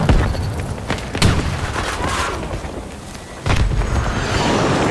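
Grenade blasts in Battlefield 2042, two sharp booming explosions about two seconds apart cutting through a constant roar of battle noise and distant gunfire.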